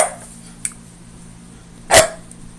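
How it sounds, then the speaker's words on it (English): A single loud indoor bark from a pet dog named Kaz, close and abrupt, preceded by a faint small yip in an otherwise quiet room. "if you keep on barking, I'm not taking you out"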